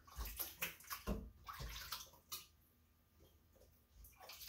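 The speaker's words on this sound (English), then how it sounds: "fill it with water, rinse the jar off" Tap water splashes and gushes into a glass canning jar packed with pears, filling the cavities with a bright, close sloshing rush that swells and fades in uneven bursts.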